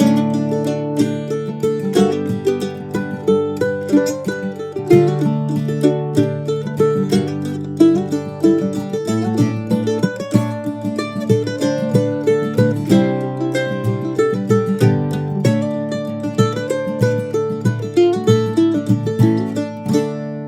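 A mandolin plays the old-time tune Charleston Gals alone, with ringing double-stopped notes and slides into pitches, steady picking throughout.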